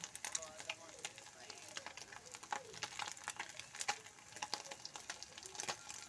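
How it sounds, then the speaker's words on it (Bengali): Fish frying in a pan in a home kitchen, a steady crackling sizzle with scattered sharp pops, moderately faint and continuous throughout. "এই যে মাছটা ভাজা আমার এখনও"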